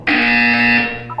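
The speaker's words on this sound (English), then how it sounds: "You will hear a buzzer." A harsh electronic buzzer sounds once in the video game Portal 2, a loud, steady tone lasting about a second and then cutting off.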